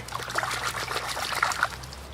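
Water trickles and splashes steadily over a freshly cleaned river trout, a close, continuous light pouring sound with a soft low hum underneath and no talk.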